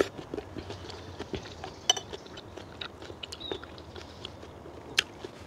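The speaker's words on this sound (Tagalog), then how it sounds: "Ang hirap pong mag-chopstick." Noodles with raw bitter gourd (ampalaya) eaten with chopsticks, light irregular clicks and taps against a bowl with soft chewing, close and quiet.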